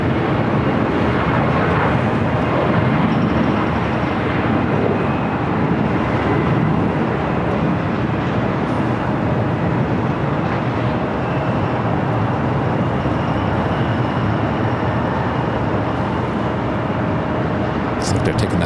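A Boeing 757 jet at LAX rumbles as a steady, loud broadband roar that holds evenly throughout, with no clear rise or fall.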